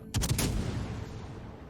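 Ship guns firing shells in the naval battle game World of Warships, a loud burst of several rapid booming shots at the start that trails off into a long rumbling decay, with no talking.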